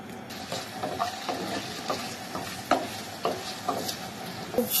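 Bay leaf and chopped onion hitting hot oil for a tempering over bitter gourd curry, a soft sizzle with light scraping stirs and small taps, fairly quiet and close.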